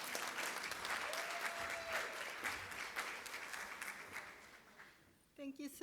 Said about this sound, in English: Let's get a warm round of applause for Magdalena.